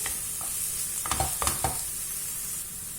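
Onion and shallot softening in a hot pan for chicken curry, a steady low sizzle with a few scraping stirs of a utensil close by and no talking.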